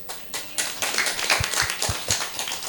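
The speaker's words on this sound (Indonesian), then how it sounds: "Tepuk tangan dong" An audience at a panel discussion claps together, a dense patter of many hands applauding steadily for a few seconds.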